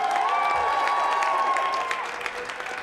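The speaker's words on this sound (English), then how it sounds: "Got a great cheering section across the way." A cheering section across a boys wrestling dual meet, St. Mary's at Minot, applauds and cheers in the gym, a steady wash of clapping from across the room that eases slightly toward the end.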